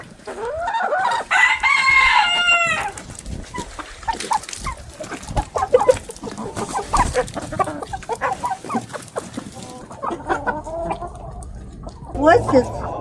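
A rooster crows loudly near the start, followed by chickens clucking and scattered farm noises in winter in Romania, with people talking intermittently throughout.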